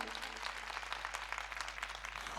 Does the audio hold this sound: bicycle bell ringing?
no